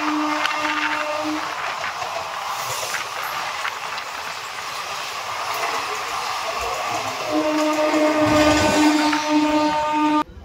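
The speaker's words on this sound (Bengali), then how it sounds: "train number 18409 Shalimar Puri Shri Jagannath express" The Shalimar Puri Sri Jagannath Express passes with a continuous loud rumble and hiss, and a steady horn-like tone sounds at the start and again near the end before cutting off abruptly.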